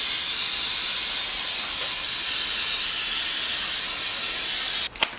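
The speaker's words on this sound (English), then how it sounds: "we want to spray each of these little cavities with some vegetable spray" Vegetable oil spray from an aerosol can misting into the small cavities of a baking pan, one long steady hiss held for about five seconds, loud and close, ending in a brief clunk.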